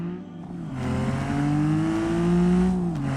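The engine of an Ibishu Claira race car in the BeamNG.drive video game revs up, a close buzzy drone rising in pitch, holding high, then briefly dipping as it shifts before climbing again.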